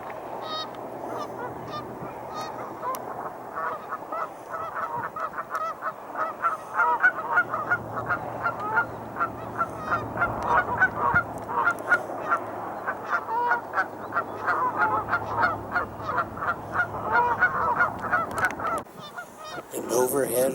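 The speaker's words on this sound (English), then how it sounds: "Oh, it looks like a goose." Geese honk near their nests in a waterfowl nesting area, a dense, steady chorus of repeated calls from several birds at moderate distance that keeps going for the whole stretch.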